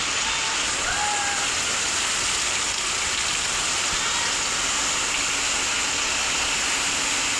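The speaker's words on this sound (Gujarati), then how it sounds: "આજ તો લગભગ 4 વાગ્યાનો વરસાદ પડે, બંધ જ નહીં થતો, ખૂબ વરસાદ" Heavy rain pours down steadily in a dense, unbroken hiss that fills the whole scene, loud and constant from start to finish with no voices.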